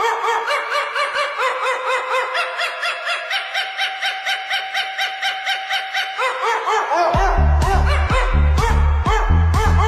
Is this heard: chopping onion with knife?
no